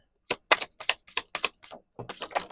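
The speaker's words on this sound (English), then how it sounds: "The cards are not wanting to shuffle." A deck of tarot cards is shuffled by hand in a quiet room, giving a series of about a dozen crisp, snapping bursts in an uneven rhythm, close and fairly soft.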